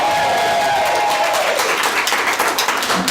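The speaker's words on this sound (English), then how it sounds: "Can you guys cheer something for the podcast?" A live conference audience of about seventy people applauds and cheers, a dense, continuous wash of clapping and crowd noise close around the room.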